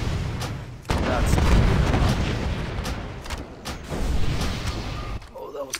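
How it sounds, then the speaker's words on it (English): Bombs detonate in a raid fight against Iron Reaver in the game Heroic Iron Reaver: a sudden heavy boom starts a long rolling roar, with several sharper blasts cracking through before it cuts off abruptly. "Oh, that was close. 2 bombs in the middle."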